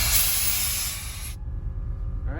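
Air suspension on a bagged, body-dropped Ford F100 truck lets off a loud, close hiss that stops abruptly partway through, leaving a low idle rumble underneath.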